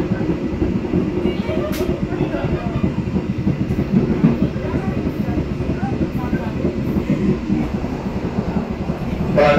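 Passenger train rolling along the line near Kertosono station in Java, a steady loud rumble of wheels and carriage noise throughout with a faint clatter, heard from on board.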